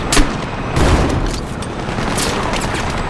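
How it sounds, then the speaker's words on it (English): Video game grenade launcher rounds, M203 style, blast holes in a destructible building, with a dense run of booming explosions and crackling gunfire that carries on throughout. "Blow some holes in this building."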